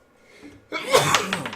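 A single person sneezes once, sharp and close, after a faint breathy intake, during a tabletop role-playing game session.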